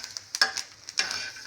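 Lots of garlic roasting in a pan for Maharashtrian chilli thecha, a faint soft sizzle with a few light scraping stirs and small clicks of a utensil, no one speaking.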